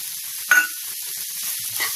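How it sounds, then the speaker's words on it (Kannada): Tomato fries in a pan with a steady, bright sizzle and a short louder burst early on as it is stirred, then the hiss settles. "ಟೊಮೆಟೊ ಈಗ ಫ್ರೈ ಆಗಿದೆ"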